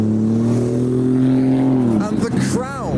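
A four-door Nissan R34 rolls in to park at a modified car show, a steady low engine drone that falls away, then a short rev, while people talk nearby.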